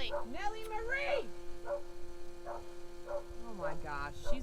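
A dog on a cotton farm yips and whines in short, rising and falling cries, repeated several times close by over a steady low hum.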